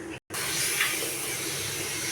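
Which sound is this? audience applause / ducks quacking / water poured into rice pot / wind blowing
water poured into rice pot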